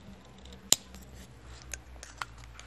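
A single sharp snip of scissors, close and crisp, followed by a few faint clicks and small handling noises in a quiet room.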